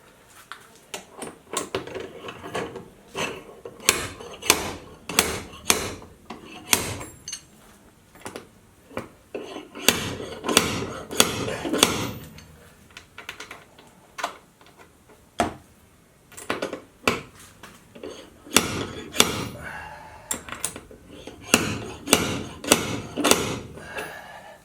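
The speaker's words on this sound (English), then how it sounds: "After I get this pulled with the slide hammer" A slide hammer works a dent out of a car door in a DIY hot glue repair, with sharp metallic knocks fired in quick bursts of several hits, separated by short pauses and soft shuffling.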